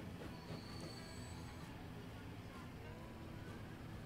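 A train runs on rails in the Transport Fever railway game, with a faint, steady rolling rumble and a thin metallic wheel squeal above it throughout.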